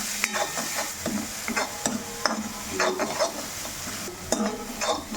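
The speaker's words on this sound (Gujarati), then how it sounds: "હવે મિક્સ કરીશું." Spices with Kashmiri chili and salt stirred in a hot pan, a steady sizzle of frying under repeated scraping strokes of a spoon against the metal, close and fairly loud with no talk.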